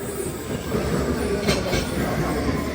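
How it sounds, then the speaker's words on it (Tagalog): A London train rolling past at close range, giving a loud continuous rumble and roar of wheels on rails with faint squealing, steady for the whole stretch. "Ang daming train. See? Every second, every minute, they have train."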